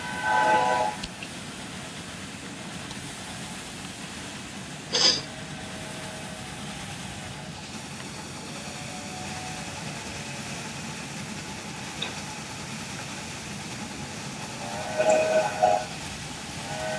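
Low rumble of a train with a few short horn blasts near the start, middle and end, heard at moderate distance from a station.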